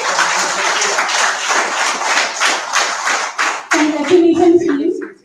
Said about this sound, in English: Please give a quick round of applause.